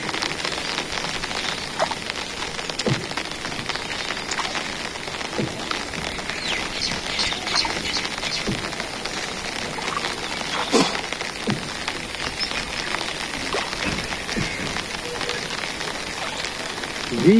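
Rain falls steadily in a rural village, a dense, even hiss with scattered sharper drop impacts throughout and no clear voices.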